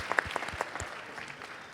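Audience applause for the parents at a teacher-appreciation event, with a few sharp nearby claps at first that give way to a softer, thinning patter of hands across the room.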